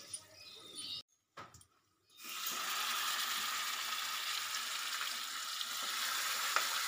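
Marinated chicken hitting a hot pan over a medium gas flame for a butter roast: a short quiet pause, then a sudden loud, close sizzle that settles into a steady hiss.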